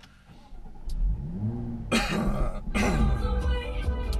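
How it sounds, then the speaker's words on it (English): A Jaguar F-Type V6S coupe starting up: the engine cranks and catches, then revs sharply twice in loud bursts before settling into a throaty idle, close to the listener. "The sound of that startup means this is the V6S model."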